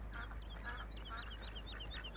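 Ducks in the video game Farming Simulator 2017 give a steady run of repeated quacks, mid-distance, over a constant low rumbling game ambience.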